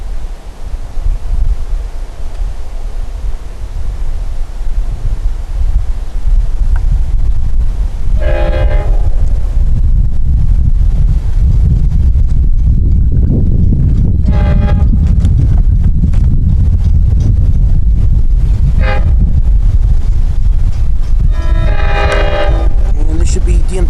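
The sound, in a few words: LIRR train 660 arriving at crossing, DM30AC locomotive horn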